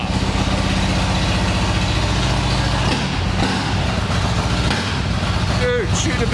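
A Harley-Davidson Lowrider S motorcycle engine idles close by with a steady, loud low rumble throughout, while people talk over it near the end.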